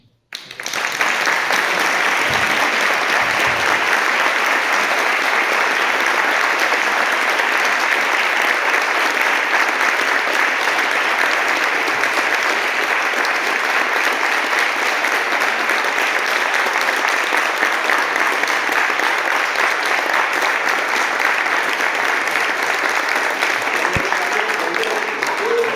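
A book-launch audience applauds in one loud, dense, continuous burst that holds steady for about twenty-five seconds before cutting off, with no voices standing out over it.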